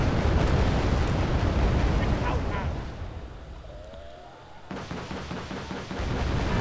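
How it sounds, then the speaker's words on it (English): Heavy gunfire and artillery bombardment in the battle game Wargame AirLand Battle roll as a dense, loud barrage of overlapping blasts and crackling shots, easing briefly in the middle before swelling again. "Oh my god, that is a lot of fire"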